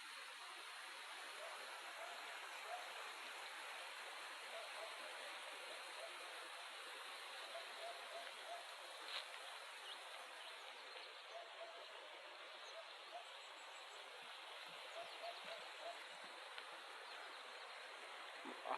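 Water runs beneath piled landslide soil in Gampola, a steady broadband rushing flow that holds an even, moderately distant level throughout with no clear voices.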